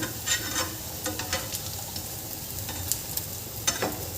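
Ragda patties shallow-fry until crisp in a pan, a soft continuous sizzle of oil broken by light scraping and clinking from stirring, quiet and close, with no talking.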